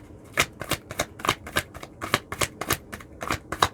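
Tarot cards shuffled by hand during a Scorpio reading, a steady run of crisp riffling bursts, close and clear, with no talking over them.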